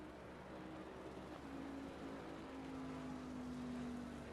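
Race car engine in the sim racing game Assetto Corsa Competizione at Zolder, a faint steady drone with a rising whine, continuous and low in the mix.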